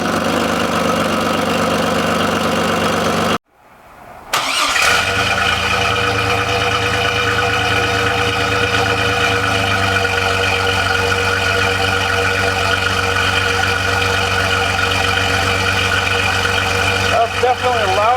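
A second-generation Chevy Astro van idles with a newly replaced muffler, giving a loud, steady, throaty engine drone. The sound cuts out briefly near the start, then settles back into an even idle that runs to the end.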